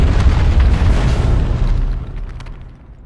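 A loud, deep explosion in Dragon Age: Origins rumbles with heavy low-end boom and crackling debris, then slowly fades over about three seconds.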